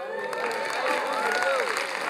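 A church congregation breaks into applause, a dense sustained wash of hand claps, with cheering voices and talk mixed in throughout.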